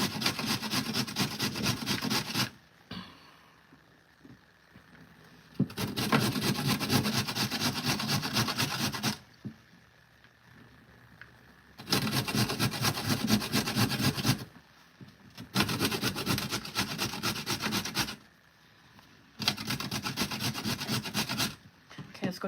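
A carrot is rubbed hard against a grater for chili, in long scraping bursts of a few seconds each separated by short pauses, close and loud with a rough rasping texture.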